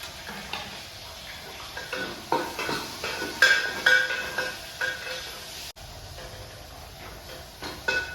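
Three sliced onions browning in ghee in a pan, stirred with a spoon: a gentle sizzle under repeated scraping strokes and occasional clinks, close and moderately loud, with a brief pause near the end.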